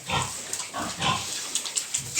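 Piglets, fourteen days old, grunting on a farm, soft, low, intermittent grunts and snuffles from several young pigs nearby, with faint light clicks and rustling in between.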